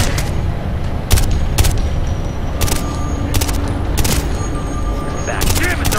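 A squad fires in bursts in Ghost Recon Future Soldier, with sharp repeated gunshots cracking over a constant loud battle backdrop and voices in the mix.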